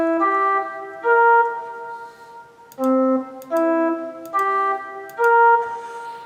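C dominant 7th arpeggio played back from Sibelius notation software, clean synthetic notes rising and falling in short phrases with gaps, clear and close, alone.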